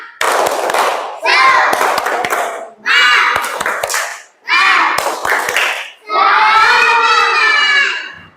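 A group of children claps in rhythm while chanting the Indonesian 'tepuk semangat' cheer, loud and close, with bursts of sharp claps between sung-shouted phrases.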